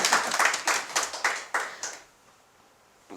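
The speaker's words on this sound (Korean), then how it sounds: "박수 한번 쳐주고" Several people clap together in a quick, even rhythm of about eight claps that fades out, leaving near silence.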